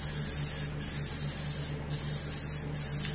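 Silver pearl paint hisses from a spray gun in three short bursts onto a muskie taxidermy mount, each burst a close, steady airy spray with a low background hum between them.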